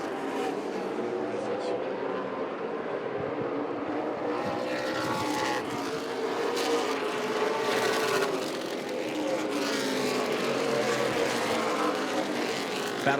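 Super late model stock cars race on the Southern National track in the Thanksgiving Classic, a continuous loud engine roar rising and falling as the pack passes, with a commentator talking over it.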